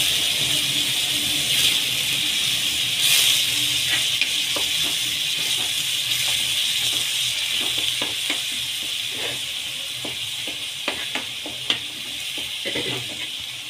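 Green chili paste added to onion paste in a hot pan for a spinach egg curry, a steady loud sizzle and hiss with occasional stirring clinks, no talking.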